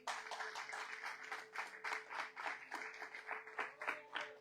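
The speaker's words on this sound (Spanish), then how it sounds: "Denle un fuerte aplauso al Señor." A small church congregation claps in quick, uneven rhythm for several seconds, faint and somewhat distant, with a steady hum underneath.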